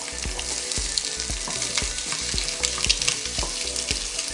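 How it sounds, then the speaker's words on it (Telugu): Boiled eggs stirred into hot egg samosa filling in a pan, giving a loud, dense close sizzle with a steady run of rhythmic spoon-against-pan knocks. "ఇప్పుడు ఎగ్, బాయిల్ చేసుకున్న ఎగ్ వేస్తున్నాను."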